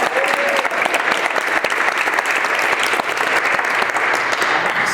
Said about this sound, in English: That's another time for applause.